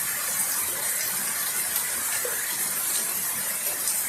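A large flow of rainwater gushes through a pipe fed from a high head of water during a thunderstorm, a steady, dense, hissing rush that holds constant throughout with no voices.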